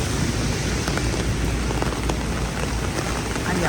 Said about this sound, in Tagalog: Ayan kaso umuulan ngayon.